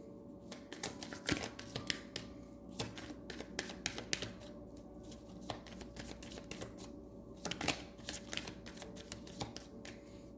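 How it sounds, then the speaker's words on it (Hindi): Playing cards drawn one by one from a deck, heard as soft papery flicks and small snaps in an irregular rhythm, close and quiet, with no talking. "एक और कार्ड निकाल लेते हैं।"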